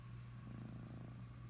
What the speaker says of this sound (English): Yes, you have a good purr.